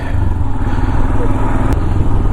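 Motorcycle riding on a mountain road to Spiti after its chain was lubed, a loud steady engine drone with heavy wind rush, constant throughout.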